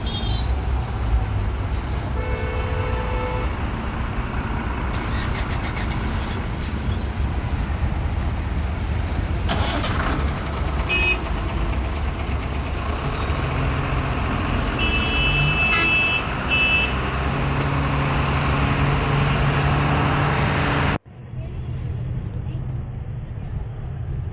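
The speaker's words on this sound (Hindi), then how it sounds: "आप देख सकते हो ट्रैफिक।" Road traffic heard from a bus on the way to the Maha Kumbh gathering at Prayagraj: a steady loud roadway rumble with car horns honking at intervals, and voices mixed in, until the sound drops sharply near the end.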